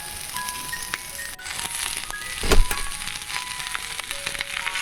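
Indian gooseberries (amla) lightly frying in oil in a pan for pickle, a soft continuous sizzle and crackle up close, with a faint tonal beep and a brief louder clatter midway.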